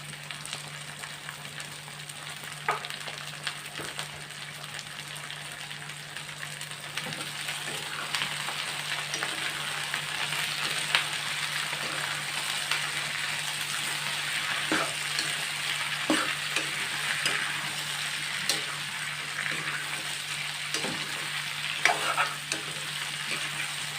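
Cluster bean pieces cook in a pan with a steady moderate sizzle, a low hum underneath and scattered stirring taps and scrapes throughout.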